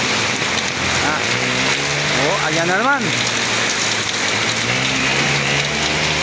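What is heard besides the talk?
heavy rain falling during a typhoon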